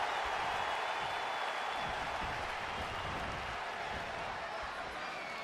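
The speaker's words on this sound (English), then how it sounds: "This crowd has literally been on the edge of their seats ever since this title match kicked off." A cheering arena crowd in the WWE 2K20 wrestling game roars steadily as a wash of broad noise, continuous and fairly loud throughout.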